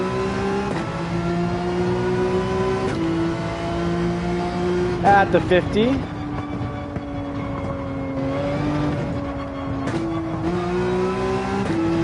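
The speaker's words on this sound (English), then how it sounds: "I can give a good amount of gas there with the 911." A Porsche 911 GR3 race car in Gran Turismo 7 drones and revs through its gears, the engine rising and dropping with each shift. Someone talks over it briefly.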